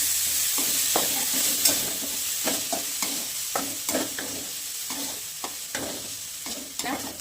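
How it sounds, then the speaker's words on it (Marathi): Chana dal sautéed with green chillies and garlic in a pan, a steady close sizzle of frying broken by frequent scraping stirs that land in an irregular rhythm. "मिरची सोबत डाळ पण परतून घ्यायची"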